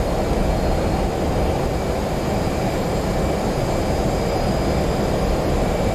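Jet engine spooling up in the DCS World 2.7 flight simulator: a loud, dense, constant roar with a faint high whine on top, holding steady with no voices.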